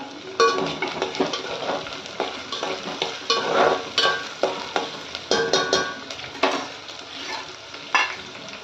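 Tomato sizzles and fries in a pan for a homemade chicken curry, with steady crackling broken by repeated stirring scrapes and clinks of a spoon against the pan, close and fairly loud.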